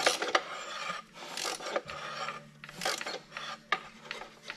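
Wrench tightening bolts on a KTM 500 EXC bash plate, a series of short ratcheting and scraping bursts with brief pauses between, close and moderately quiet.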